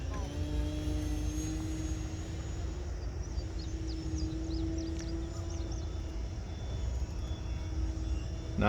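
A Timber X RC model airplane on a 4S 2200 battery cruises at quarter throttle without flaps, giving a steady electric propeller whine at moderate distance while people talk nearby.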